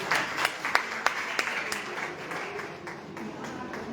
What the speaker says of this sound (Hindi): एक बार मैं चाहूंगा आप सभी का शानदार ताली से स्वागत किया जाए।